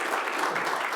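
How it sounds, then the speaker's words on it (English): A brief, dense burst of audience applause closes a testing masterclass, a steady wash of clapping from a small gathered group. "round of applause once again"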